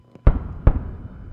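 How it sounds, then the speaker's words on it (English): Twin sonic booms from Space Shuttle Atlantis returning to Kennedy Space Center, two sharp close booms about half a second apart, each trailing off into a brief rumble, alone without talk. "with those twin sonic booms that they always hear at the Kennedy Space Center when an orbiter is coming home"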